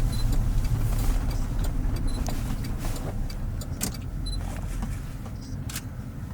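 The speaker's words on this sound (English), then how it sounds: "I'm gonna let this car pass us" A car on a road in Wyoming heard from inside another vehicle, a steady close engine and road rumble throughout with faint clicks and rattles, no distinct pass-by swell.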